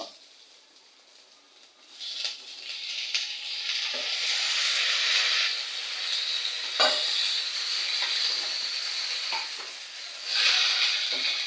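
Onion, green chili and tomato sizzle and fry in a pan for tomato thokku, with steady frying hiss and occasional scrapes of stirring, close and fairly loud after a quiet start.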